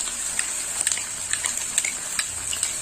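Water is poured into ground spice powder and stirred by hand for an egg masala curry, giving soft wet squelching and light clinks from the utensil in short irregular bursts under a faint background hiss.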